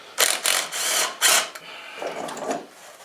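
Pneumatic impact wrench removing the rear tire of a quarter midget race car, with several loud rattling bursts followed by softer mechanical clatter, close and alone.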